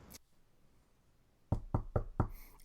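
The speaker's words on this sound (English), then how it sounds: "Oh, someone's at my door." Four quick, firm knocks on a door sound close and sharp after a moment of quiet, preceded by one faint earlier tap.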